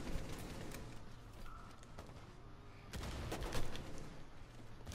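Gunfire in Rainbow Six Siege, several sharp shots including a louder cluster of cracks in the middle and later part, heard over steady game background noise with no talk.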